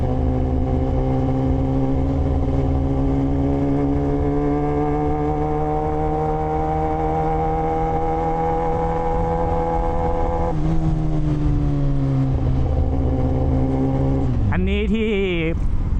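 A Kawasaki ZX10R motorcycle rides through Mahachai market at night, its engine holding a steady, loud drone with a shift in pitch near the end, followed by a brief rising rev.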